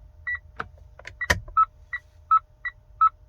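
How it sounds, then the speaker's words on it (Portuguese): A 2012 Mitsubishi Outlander GT sounds its turn signal warning, a steady train of short, evenly spaced electronic beeps close by inside the cabin, with a few clicks and handling noises early on. "fica esse barulhinho aí que ele fica fazendo com a seta"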